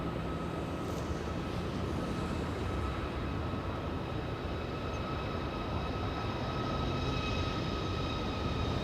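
A Southwest Airlines airliner on the move for takeoff at LAX, a steady broad engine roar with faint tonal whine, constant and distant throughout with no voices.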